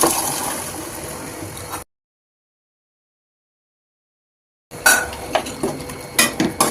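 Water is added to a pan of veg white kurma with chickpeas, green peas, beans and carrot, then stirred: short clinks and scrapes of a spoon against the pan over a soft wet rumble, with a gap of silence in between.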